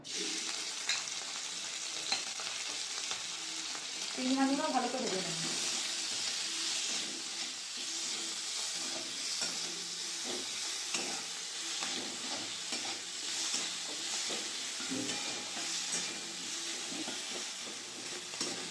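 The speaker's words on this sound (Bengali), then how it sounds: "কড়াইয়ের মধ্যে অল্প তেল দিয়ে দেবো চিংড়ি মাছগুলো তেলের মধ্যে দিয়ে দেবো" Shrimp fry in a little oil in a wok, a fairly quiet, steady sizzle with stirring scrapes running throughout and a brief spoken voice partway through.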